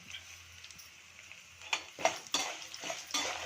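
Mustard seeds frying in a pan as it is stirred for a tamarind pulihora, a faint sizzle with scattered light clinks and scrapes of a spoon against metal that grow busier toward the end.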